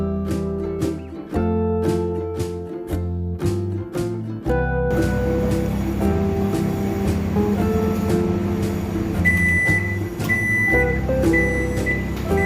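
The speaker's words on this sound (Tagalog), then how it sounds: "don't forget to select the convection po yung ating microwave oven." A convection microwave oven cooking beef in cheese gives a few beeps as it is set, then runs with a steady low hum and fan whir, close by and without speech.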